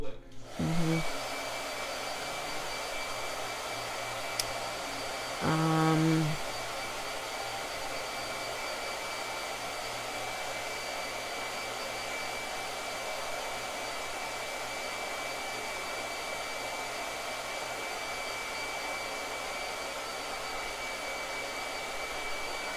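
Blow dryer running in a painting studio: a switch click, then a steady, quiet whirring motor and airflow hiss that continues evenly throughout, with a brief muffled bump early on.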